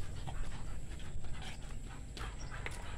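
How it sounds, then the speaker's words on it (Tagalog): An American bully dog pants steadily nearby in a rapid, breathy rhythm, with faint background noise around it. "Ito yung isang aming aso, si Naila."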